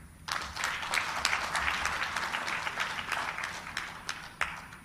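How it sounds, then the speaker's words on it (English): Audience applause at a democracy stakeholders' conference of African leaders, a steady wash of many hands clapping for about five seconds, moderately loud and without talk. "Please, a round of applause for our elders."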